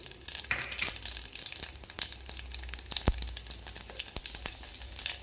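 Cumin seeds sizzle and crackle in hot tempering oil for a North Karnataka kadbele saaru, a steady close frying hiss with sharp pops and a few light clinks of a pan, no voices.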